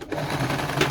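A sewing machine stitching stretchy material, set to tension 5, stitch length 4 and width 0, runs in a steady, close mechanical whir without pause.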